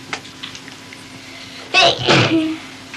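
A single sudden sneeze, close and fairly loud, breaks a quiet background with a faint hum.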